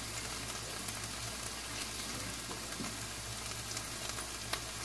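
Onion frying in a pan, a steady dense crackling sizzle with tiny pops throughout, close and continuous with no talk.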